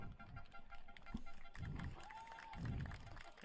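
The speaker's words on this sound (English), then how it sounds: "a round of applause from the crowd and both sidelines as the Holland College player is able to finally leave the field" Scattered applause and cheering from a crowd and both team sidelines at a 2021 Tigers vs Hurricanes football game as an injured Holland College player leaves the field, steady, broad crowd noise with a brief whistle-like tone midway.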